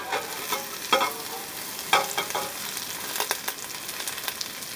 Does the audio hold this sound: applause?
no